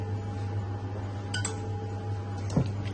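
Nuts tipped into a bowl of plum cake batter, a few faint clinks and a light clatter against the bowl over a steady low background hum.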